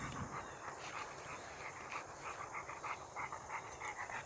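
A dog panting at an outdoor dog park, steady quick breaths close by over a constant background hum, with no talk.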